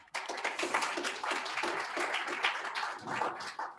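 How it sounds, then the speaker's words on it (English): An audience at a meeting breaks into a burst of dense, steady applause that sustains evenly for several seconds, close and full, with no talk over it. "Let's give a big round of applause to Carrie."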